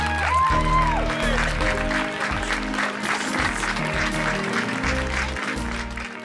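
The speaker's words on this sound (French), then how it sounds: "Allez-y, on les applaudit encore." An audience at a Relay for Life unveiling ceremony applauds steadily for the organizing committee, dense clapping under loud stage music throughout.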